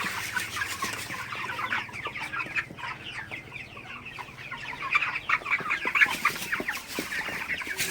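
A flock of 35-day-old broiler chickens clucks and chatters continuously nearby, overlapping calls with a low mechanical hum in the background.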